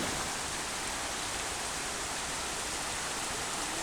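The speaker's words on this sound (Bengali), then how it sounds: "এই হঠাৎ করে আবার বৃষ্টি" Sudden rain pours steadily during the rainy season in a Bengali village, a dense, even hiss of drops on surfaces that continues without pause, fairly close and with no voices.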